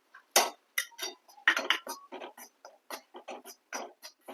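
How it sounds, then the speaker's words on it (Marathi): Wheat flour roasting in a pan over low gas while being stirred continuously, a string of quick scraping and clinking taps from the utensil against the pan, close and fairly quiet, with no voices. "पीठ आपण एकसारखं इथं हलवतोय"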